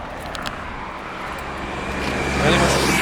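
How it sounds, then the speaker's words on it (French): A scooter in a street in Utrecht at nine in the morning: a loud, rough engine drone swells as it approaches and passes close by, over steady traffic noise. "Vas-y, filme le scooter."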